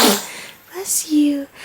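One sharp, close sneeze bursts out at the start, followed by a few soft vocal sounds from the same woman.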